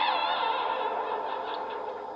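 Another aggressive bat call, slowed down, is a steady, bright, buzzy harmonic tone that holds for about two seconds and wavers slightly as it fades a little toward the end.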